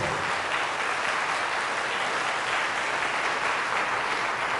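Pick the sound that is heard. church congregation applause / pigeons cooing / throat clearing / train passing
church congregation applause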